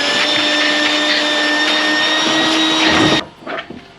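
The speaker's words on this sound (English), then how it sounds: "Little vacuum." A small vacuum cleaner runs steadily and loudly with a whining hum while cleaning drill dust from a ski's binding mount holes, then cuts off abruptly, leaving a few faint handling knocks.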